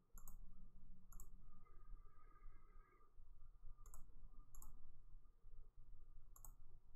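Sharp mouse clicks in Tableau while building soccer league table charts, about six distinct clicks spaced irregularly over steady low room noise, close and crisp.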